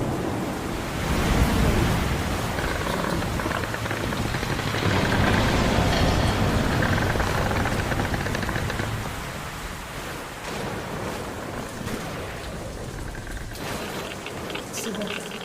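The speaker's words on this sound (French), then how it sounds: "Pluie, vent, dangereux." Steady roaring rain and wind storm in the video game Metro Last Light, a dense wash of rain and gusting wind that holds loud and even throughout, easing slightly toward the end.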